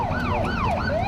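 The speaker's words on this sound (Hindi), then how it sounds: "गांव में मौजूद पुलिस टीम और गाड़ियों का सायरन सब कुछ बयां कर रहा है।" A wailing police vehicle siren rising and falling in a repeating cycle, loud and fairly close, with traffic rumble underneath, in a village.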